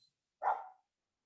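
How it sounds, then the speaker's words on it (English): A single short dog bark rings out once, moderately far off, in an otherwise quiet indoor room. "That's my dog barking over here."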